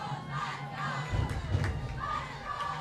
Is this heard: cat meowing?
no